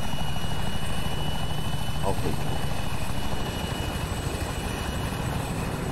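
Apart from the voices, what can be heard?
helicopter flying in, from the video game Arma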